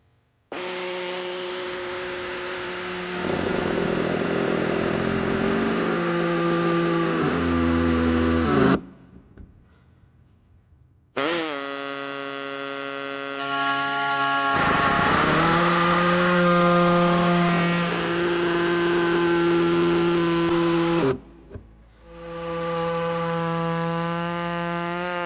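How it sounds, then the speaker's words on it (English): Pneumatic air cutter slicing through a 2015 Subaru Forester bumper fascia for a trailer hitch, a loud steady whine running in long bursts with short pauses between them. "I'm going to be using an air tube with a cutter."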